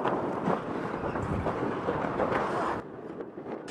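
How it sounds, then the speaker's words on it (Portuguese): Strong wind rises at sea aboard the sailing ship Santa Maria Manuela, a loud broadband roar and buffeting that cuts off abruptly near the end, leaving fainter gusts. "mas eis que, sem aviso, o vento aumenta de intensidade"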